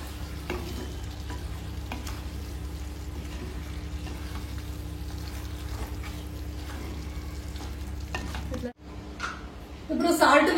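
Chicken for tikka biryani frying in a pan while being stirred: a steady, even sizzle runs throughout, with sharper scraping and clatter from the utensil near the end.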